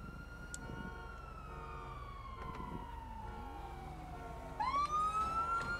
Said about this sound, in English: so now you've got all these different sirens in here